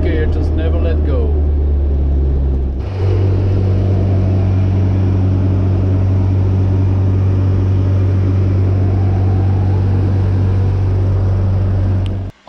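A car engine holds second gear while it climbs the twelve hairpin bends of a mountain road in the Alps of northern Italy. A loud, steady low drone drives on without a break, and the pitch steps up after a shift early on.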